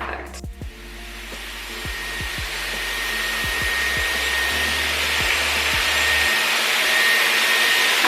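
A Dyson Airwrap hair styler blows air in a steady, loud whooshing hum that builds gradually in intensity, with a few short low clicks early on and no talking.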